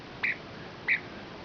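A wild pet bird gives two short, harsh, nasal squawks spaced well apart, close and fairly loud above a steady low background hiss.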